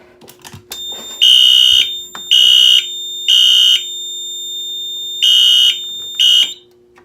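A loud electronic fire alarm horn, triggered by a smoke detector test on a demonstration fire alarm system, blares in five repeated bursts with a steady high tone sounding in between, close and piercing.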